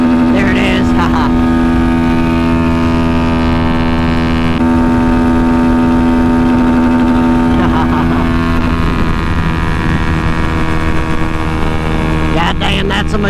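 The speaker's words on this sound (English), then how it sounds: "I'm gonna hit the rev limiter." An engine holds at high revs against the rev limiter, a loud steady droning hum with strong harmonics running through the whole stretch, with shifts in pitch partway and at the end.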